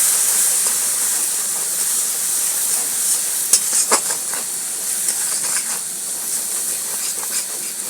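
Spices with Kashmiri chilli powder and green peas frying in a pan for a bata fish curry: a loud, continuous hiss and sizzle with scattered sharp crackles and stirring scrapes, with no talking.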